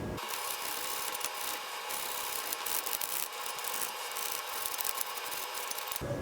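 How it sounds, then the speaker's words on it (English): A wire brush scrubs rust off the rotor mating surface of a first-generation Toyota Tacoma brake, giving a continuous bright scratching rasp, close and fairly quiet, lasting about six seconds. "we want to go ahead and clean up any high spots with a wire brush so that our caliper seats nicely"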